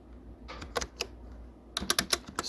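A name being typed on a computer keyboard: about a dozen crisp, close key clicks in two uneven bursts separated by a short pause, with no talking.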